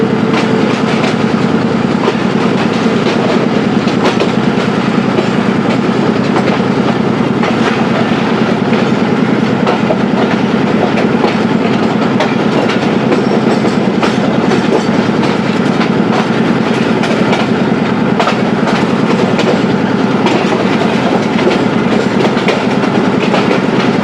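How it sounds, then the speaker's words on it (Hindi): The Sialkot Express passenger train rolls along a branch line with a steady, loud clickety-clack of wheels and a continuous rumble as it gradually picks up speed, with no talking. "ट्रेन की आहिस्ता आहिस्ता से अपनी स्पीड को बढ़ाना शुरू हो गई है।"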